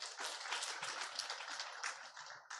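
A church congregation applauds steadily for a few seconds, a dense wash of clapping at moderate volume from a room full of people.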